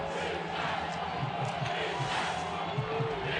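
Stadium crowd at Cheney cheering at an FCS quarterfinal football game between Illinois State and Eastern Washington, a loud continuous roar with shouts, rhythmic pulses and talk mixed in.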